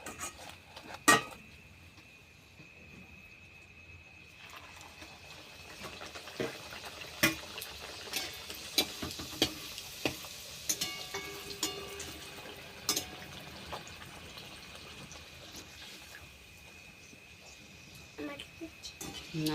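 Luchi puffing up as it deep-fries in hot oil, a quiet bubbling hiss with scattered crackles and sharp pops that grows busier partway through.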